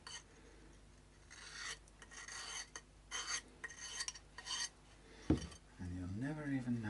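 Metal file rasping along guitar fret edges with an edge softener to take off burrs on a Harley Benton SC Custom, steady close scraping strokes repeated in bursts, followed by a brief voice at the end.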